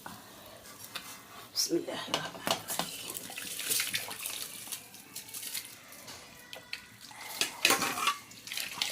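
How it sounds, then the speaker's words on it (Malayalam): Washed rice for a Malabar dum biryani tipped into water nearby: a couple of wet splashes and swishing, stirring sounds over a soft background. "ഇനി അരി വെള്ളത്തിലിടുക."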